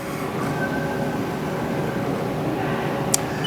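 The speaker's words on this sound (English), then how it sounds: "That was a tool change." A 2007 Haas TM-1 CNC toolroom mill with a 7.5 horsepower spindle hums steadily and loudly, with a single brief sharp click from the tool change near the end.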